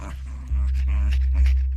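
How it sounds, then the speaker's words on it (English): A small dog lets out a flurry of soft little growls while eating dog treats in a radio drama, the growls close and layered over a loud, steady low hum. "He ate them with a flurry of little growls and seemed to relish them."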